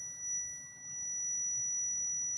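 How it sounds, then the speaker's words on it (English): A multimeter set to continuity gives a steady, high beep while its probes test a Whirlpool stackable dryer heating element with no heat. The tone is continuous and moderately loud, with no talk. "You're keeping the meter on ohms or continuity with sound"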